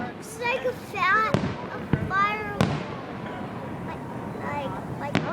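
Fireworks explode in several sharp, loud bangs spread through the clip, mixed with crackling bursts, while excited voices chatter and exclaim over the display.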